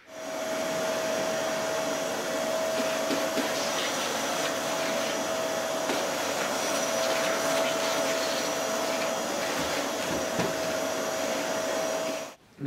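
A vacuum cleaner runs steadily for about twelve seconds while sucking debris from under a machine's hollow feet, its loud, even whine holding constant before cutting off abruptly near the end.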